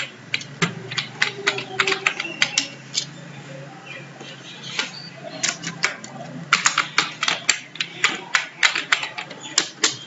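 Narration text being typed on a computer keyboard for an accounting entry, with bursts of quick, close key clicks separated by pauses and a dense run of typing near the end.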